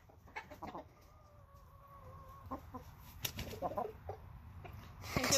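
Several chickens squabble in a coop, with sharp clucks, squawks and a brief drawn-out call, scuffling and wing flaps rising toward a louder burst at the end.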